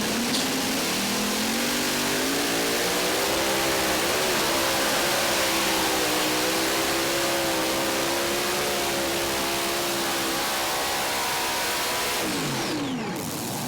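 A roaring engine from an 8,000-pound heavy Unlimited pulling tractor with screw-type superchargers at a truck and tractor pull in Tomah, Wisconsin, blasting loud and sustained with wavering pitch, then dropping away near the end.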